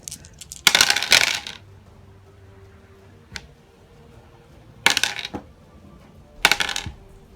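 Dice rattle and clatter onto a tabletop during a Deadzone wargame battle between Asterians and Forge Fathers, heard as three distinct close bursts of tumbling clicks separated by quiet gaps.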